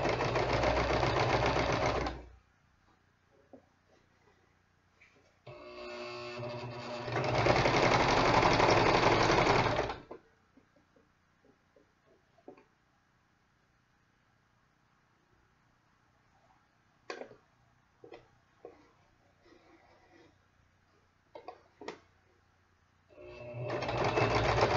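A sewing machine runs in three loud bursts as it stitches a half-inch seam on a reversible Christmas tree skirt, separated by quiet gaps with faint clicks and handling noises.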